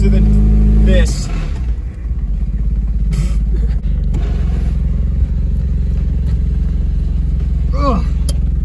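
A cheap used pickup truck bought off an online marketplace drives along with a loud, steady engine drone and rumble, a gear change near the start, and occasional clunks and rattles throughout.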